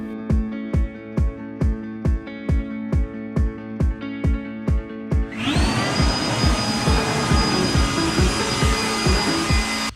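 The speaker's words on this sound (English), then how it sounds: "Did you hear the blower?" A blower starts up roaring loud and steady partway through, after a series of rhythmic thumping pulses, during a cleanup on a home deck.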